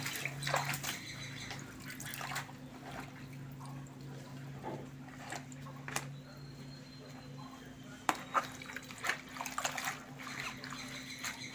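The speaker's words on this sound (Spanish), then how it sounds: "Vamos a lavar el quelite de camarón que cortamos para ponerlo a hervir." Water splashes and trickles as freshly cut shrimp-flavored quelite greens are washed, a soft steady wet sloshing with occasional sharper splashes over a low background hum.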